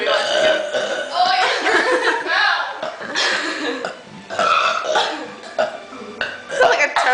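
A croaky, toad-like burp in a burping contest stretches out in rough, gurgling bursts, loud and close, mixed with chatter and a little laughter.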